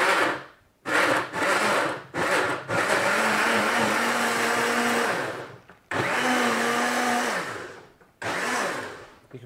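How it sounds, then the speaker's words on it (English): A blender purees tomato sauce, whirring loudly in several bursts, starting and stopping repeatedly with short pauses between runs, its pitch shifting as it works. "Once that's all in the blender, blend it up until it's nice and smooth consistency."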